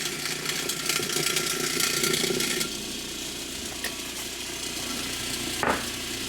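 A homemade DIY rock tumbler running, a continuous close mechanical hum and rattle of tumbling rock that drops in level partway through, with a brief clunk near the end and no talking.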